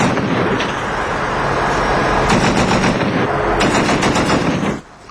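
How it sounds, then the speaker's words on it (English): Two .240 machine guns and a .50 caliber firing tracer rounds at night toward suspected Taliban positions, a loud, sustained rattle of rapid automatic bursts that cuts off near the end. "Using 2 .240 machine guns and a .50 caliber, these soldiers lit up the night with tracer rounds"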